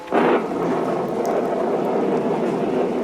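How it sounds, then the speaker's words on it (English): A thunderstorm sound effect in a vintage radio play: a thunderclap bursts at the start, then gives way to a steady wash of heavy rain and rumbling storm noise. "a storm broke"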